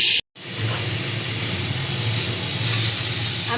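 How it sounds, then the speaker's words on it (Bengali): Pointed gourd (potol) fries in a covered pan, a loud, steady hissing sizzle that breaks off into a short silence before resuming at full strength and holding evenly with no voices. "একটু লাল লাল করে পটলগুলোকে ভাজা করে নেব।"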